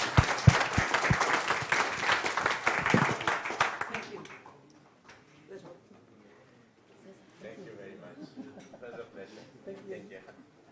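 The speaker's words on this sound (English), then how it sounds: "give applause to our speakers" An audience at an international symposium on marine protected areas applauds its speakers with loud, dense clapping for about four seconds, then it dies away into quiet murmuring and faint talk.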